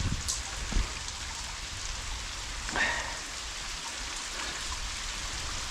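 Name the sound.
heavy rain heard from under a bridge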